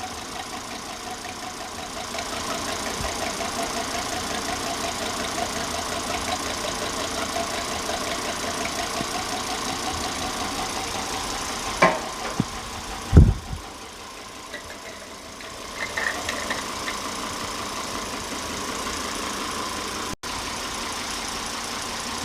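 A Volvo S60 2.5T engine idles steadily during an engine flush, a constant mid-range hum with a few brief clanks and knocks partway through and a short dip in level.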